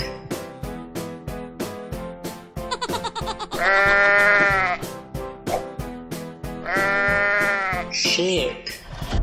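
Two sheep bleats, each about a second long, stand out over a steady rhythmic backing beat, with a brief high squeal near the end.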